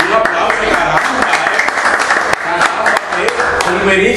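Studio audience applause on a Spanish-language television talk show, brisk clapping mixed with voices and bursts of other sound, fairly loud and close.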